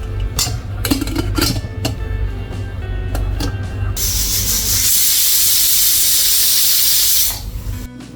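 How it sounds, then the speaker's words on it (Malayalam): Pressure cooker of potato stew on the stove: a few clattering knocks, then a loud, steady rush of venting steam that hisses for about three seconds before cutting off abruptly. "ഒരു 2 വിസിൽ വരുന്നത് വരെ വേവിച്ചെടുക്കാം"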